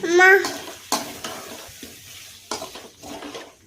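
A ground paste of curry leaves, black pepper and cumin is sautéed in a pan for garlic curry leaf kuzhambu. A brief tonal sound comes first, then a gentle sizzle with scattered close scraping strokes.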